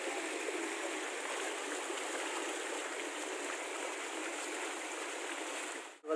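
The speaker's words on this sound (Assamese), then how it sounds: "পানী চিটিয়াকৈ আহি আছে" Fast-flowing floodwater during the Assam flood in Nalbari, a steady broadband rush like a stream that holds constant for about six seconds before a brief break at the end.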